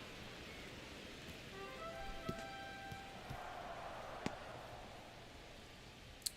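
Rain falls over a baseball stadium on a cold night in a Pittsburgh Pirates franchise baseball video game, a faint, steady hiss broken by a few sharp clicks, with no talk.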